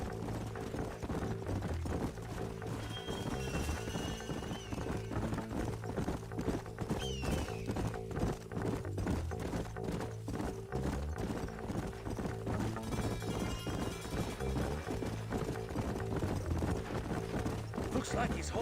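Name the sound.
horses galloping in video game Red Dead Redemption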